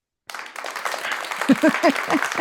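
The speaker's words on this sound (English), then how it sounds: "let's give a big round of applause to Kat." Applause breaks out after a brief silence, building into steady clapping from a crowd, with a voice calling out over it.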